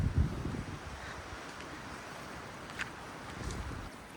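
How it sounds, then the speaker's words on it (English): Gusty wind blows across a coastal walking path on Tomaree Head at Port Stephens, giving a continuous broad rush with a few low buffeting thumps, and no voices. "So this is my only concern here, is how windy it is."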